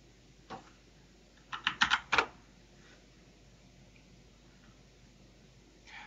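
Short burst of keystrokes on a computer keyboard as a terminal command is entered to install Docker on a Raspberry Pi, a few quick clustered taps and then quiet room tone.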